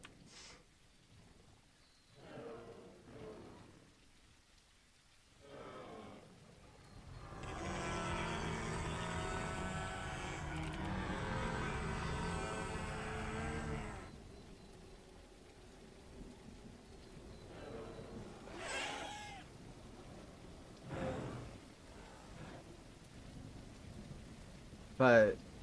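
Heavy video-game rain roars in from about seven seconds and pours loudly for roughly seven seconds, with thunder-like rumble, then fades as occasional talk returns with scattered softer bursts.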